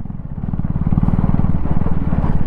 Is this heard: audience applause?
no